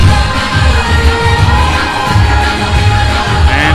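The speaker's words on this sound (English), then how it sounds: "And here comes the crowd behind the parade." A dense crowd follows behind a parade at Magic Kingdom, a steady, loud wash of chatter and scattered cheers and children's shouts that stays close and continuous throughout.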